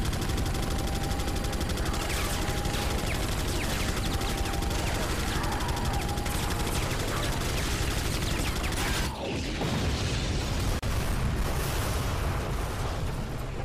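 Dense, continuous gunfire and automatic bursts in the survival-horror video game Resident Evil 4, loud and chaotic with overlapping shots and explosive bangs, sustained over a noisy battle din.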